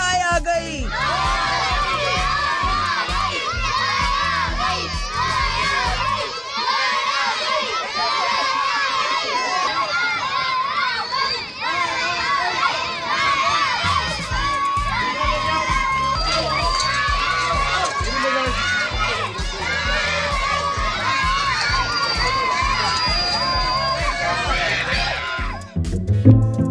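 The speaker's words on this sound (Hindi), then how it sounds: "बच्चे चिल्ला उठते हैं, गाय आ गई, गाय आ गई।" A large crowd of children shouts and cheers continuously and excitedly as the sacrificial cow arrives for Eid, with loud overlapping voices and chatter sustained throughout.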